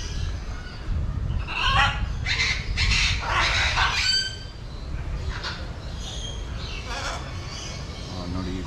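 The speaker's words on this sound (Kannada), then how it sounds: "ಹಾಂ ಎಲ್ಲ ಕೇಳಿಸ್ಕೊಳ್ಳಿ, ಇದೇ ಪಕ್ಷಿ ಇದೆ." A red-beaked bird calls loudly at Mysore zoo, a run of harsh squawking cries in the first half, then fainter calls amid crowd chatter and background voices.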